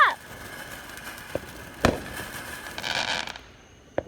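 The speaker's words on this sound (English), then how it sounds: "Look at that firework." Fourth of July fireworks pop in a few scattered sharp bangs, with a crackling burst in between and faint voices in the background.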